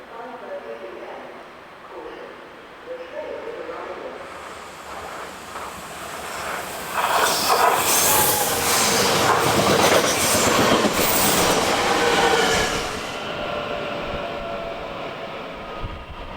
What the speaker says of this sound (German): Auf die Minute pünktlich kommt der Intercity aus Amsterdam über Bad Bentheim.